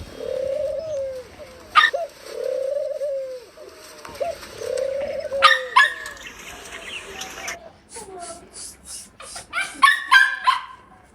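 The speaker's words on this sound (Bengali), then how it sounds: "ঘুঘুগুলা ডালে বসে আছে ভালোই লাগছে" Doves cooing on a branch at a farmhouse: repeated soft, low coos come in rounded phrases, with sharper bird chirps joining in and overlapping toward the end.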